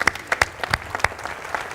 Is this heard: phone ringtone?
no